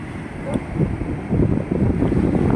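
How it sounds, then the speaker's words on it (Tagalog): Strong wind buffets the microphone while big waves roar and surge nearby on a wide beach, a continuous loud rush. "Lalaki po ng alon"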